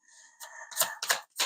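Tarot cards are shuffled in a few quick, crisp papery riffles and swishes, close and fairly soft, with brief gaps between them.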